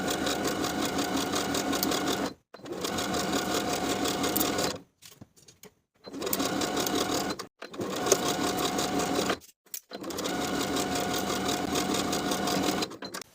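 A sewing machine stitches a 3/8 inch seam along the front and back yoke of a lined tie-front summer vest, running in steady whirring bursts of a few seconds separated by short pauses.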